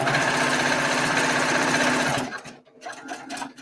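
Sewing machine running fast and steady as it stitches a quilt binding at a quarter-inch seam, then stopping abruptly and giving way to soft handling noises of fabric being shifted.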